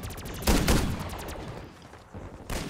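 Gunfire in a Call of Duty Zombies video game: a burst of rapid shots starts about half a second in, tails off, and returns briefly near the end, fairly loud and close.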